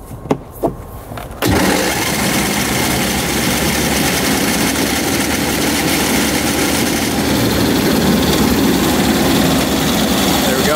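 A 1990s twin-engine hovercraft starts up after a few clicks and knocks, then its engines idle with a loud, steady, rumbling drone that holds evenly throughout.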